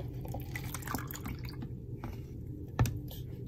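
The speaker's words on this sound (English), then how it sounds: "pour it into my cup." Blended paper pulp poured into a cup for papermaking, a soft, quiet run of wet drips and liquid splashes with one sharper plop near the end, no talking.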